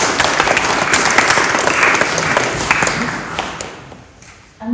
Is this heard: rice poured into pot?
no